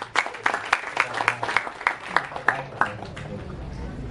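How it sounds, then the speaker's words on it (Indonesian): At a mega conference in Jambi, a crowd claps for Indonesia in a series of sharp, fairly rhythmic claps that thin out and fade after a few seconds, with speech mingled in. "Tepuk tangan untuk Indonesia."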